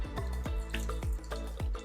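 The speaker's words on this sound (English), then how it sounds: "Next step, we're gonna wring out some of the water" Water drips in a steady rhythm from a wet, wrung-out hair topper over a sink, roughly six close, distinct drops in under two seconds with no talking.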